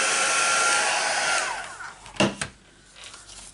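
A heat tool blows a loud, steady airy whoosh while heat embossing a stamped card, then shuts off and spins down, followed by a couple of brief handling knocks in a quiet room.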